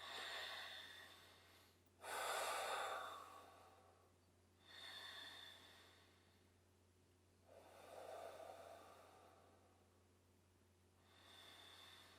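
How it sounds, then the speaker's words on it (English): Slow, deep intentional breathing during a yoga session, with several long, audible inhales and exhales alternating in an even rhythm, close and soft against a quiet low hum, with no talking. "deep breaths in and out"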